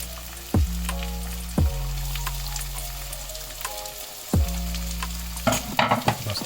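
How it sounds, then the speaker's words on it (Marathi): Prawn masala with onion-tomato puree, coriander and mint frying and being stirred in a pan, steady sizzle with three or four sharp spoon scrapes and clanks, close and alone with no voices. "थोडंसं फ्राय होऊन घेऊयात."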